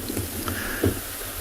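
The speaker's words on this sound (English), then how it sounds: "I'm not sure if you can hear this wind on the other side." Wind gusts steadily into an outdoor microphone on an early-morning safari, giving a continuous loud rumbling buffet with a brief stronger thump partway through.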